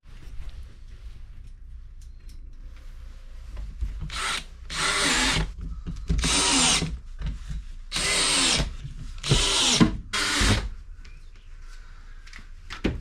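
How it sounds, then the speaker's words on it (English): A power drill fitted with a countersink bit bores into pre-drilled holes in a Toyota Coaster bus floor, giving five close, loud whirring bursts of about a second each, separated by short pauses. "now I'm going to go ahead, countersink all these holes with a countersink bit"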